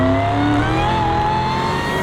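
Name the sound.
Dodge Challenger Hellcat Demon engine revving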